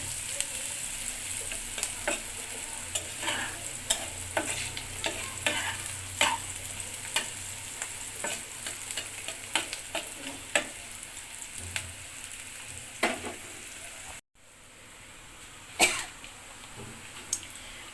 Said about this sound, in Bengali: পেঁয়াজটা ভালো করে লাল হোক, ভালো করে ভাজবো।